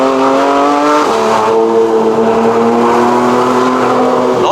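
2015 Porsche 911 GT3 RS climbing a mountain road in Malaysia, the engine loud and close, its pitch rising steadily through the revs, dipping briefly at a gear change, then climbing again.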